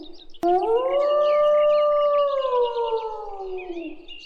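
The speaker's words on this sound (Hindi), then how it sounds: "इतनी समझाने के बाद भी लोमड़ी नहीं मानी और वो चिल्लाने लगी।" A fox howls in a Hindi cartoon story about a camel and a clever fox in a watermelon field, one long, loud, sustained wavering cry that starts abruptly and slowly falls in pitch as it fades, with no talk over it.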